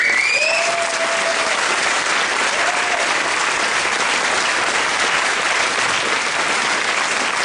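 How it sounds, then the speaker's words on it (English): Sustained applause from a conference audience fills the room steadily and loudly for the whole stretch, with one faint voice rising briefly near the start. "Can we have a round of applause for all of them?"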